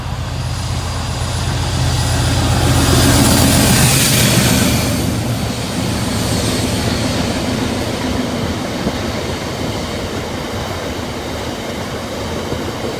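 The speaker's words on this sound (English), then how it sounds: "that freight train from Doncaster Woodyard to Pinnox" A freight train from Doncaster Woodyard to Pinnox passes Oak Farm level crossing, its loud rumbling roar swelling to a peak then holding a steady rolling clatter of wagons close by, with no voices.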